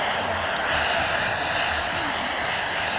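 CARF Mephisto model jet with a movable thrust-vectoring nozzle flies aerobatic manoeuvres at the Euroflugtag 2017 air show, giving a steady, loud turbine roar with a broad hiss held for the whole stretch.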